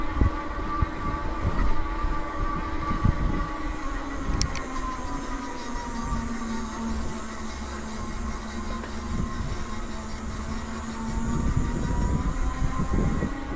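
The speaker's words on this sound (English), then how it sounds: "I'll let you listen to the motor so you can see kind of how that sounds" Rear hub motor of a Ride1UP 700 ST e-bike running while riding, a steady whine that slowly falls and rises in pitch, heard over rolling road and wind noise.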